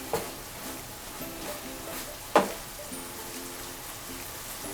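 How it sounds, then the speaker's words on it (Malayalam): A mushroom chicken roast simmers in a lidded pan, giving a faint, steady sizzle with a soft tap early on and one sharper clank of the spoon midway as it is stirred, no talking. "നമുക്ക് ഇതിനെ ഒന്ന് ലിഡ് എടുത്തിട്ട് നമുക്കൊന്ന് ഇളക്കി കൊടുക്കാം."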